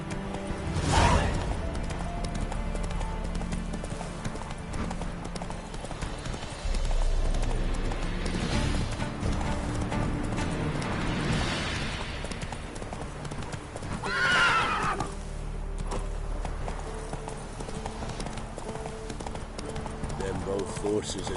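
Roach the horse from The Witcher 3 gallops with steady clip-clop hoofbeats and lets out loud whinnies, set against busy game music and battle ambience, with voices speaking at times.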